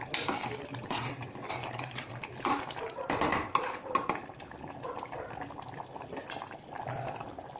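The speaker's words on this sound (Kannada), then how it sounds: "ಕುದೀತಾ ಇದೆ ಇವಾಗ ನೋಡಿ" Water for tomato bath bubbles and boils in an open pressure cooker, a low burbling simmer with metallic clinks of a spoon against the pot, quiet and close.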